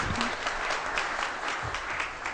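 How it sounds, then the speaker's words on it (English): Continuous applause from a conference audience at a lifetime achievement award ceremony, a steady wash of clapping at moderate volume from start to finish. "A round of applause for the man, for the genius."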